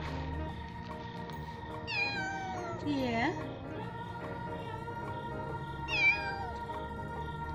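A kitten meows a few times at close range, high drawn-out cries with a quieter steady hum underneath and a brief voice.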